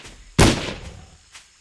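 Two loud, sharp rifle shots from an M14 in the video game Trespasser, the first at about a third of the way in with a long decaying tail, the second right at the end, separated by quiet.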